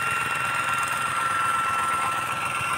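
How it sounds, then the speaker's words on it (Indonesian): Two tractor engines work side by side at one farm site, a steady droning rumble with a constant mechanical hum and slight knocking vibration, continuous and fairly loud without any talk. "Ini dua traktor beriringan dulu. Satu lokasi dua traktor."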